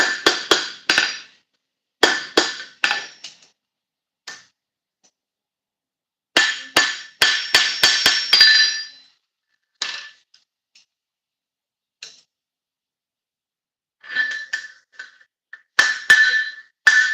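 A blacksmith's long-handled hammer strikes hot metal in bursts of sharp, ringing clangs, each burst several blows in quick rhythm, separated by short silences, loud and close.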